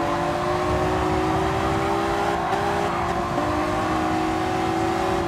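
Honda NSX racing around Tsukuba Circuit in Gran Turismo 7, its engine holding a steady loud drone with shifting pitch through the corners, continuous and close with no talk over it.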